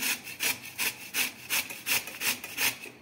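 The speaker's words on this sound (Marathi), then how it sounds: "आता त्या आपण किसून घेऊ अशा किसणीने" Peeled raw green mango is rubbed against a hand grater in about nine quick, even rasping strokes, close and crisp, with no talking.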